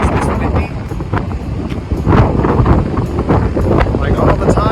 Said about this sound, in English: Is Nebraska always this windy?